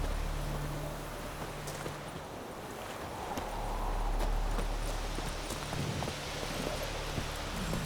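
Roach the horse from The Witcher 3 walking, steady clip-clop hooves in an even rhythm over a low wind and ambient bed, moderately close, with no talk.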